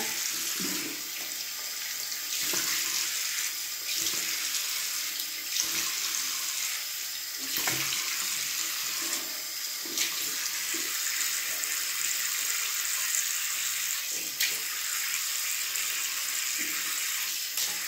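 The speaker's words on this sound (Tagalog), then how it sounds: "It's about time na maghugas na ng mukha." A bathroom sink tap runs steadily for the whole stretch while a face is washed, a close, continuous rushing stream broken by small splashes and hand movements in the water, with no one speaking.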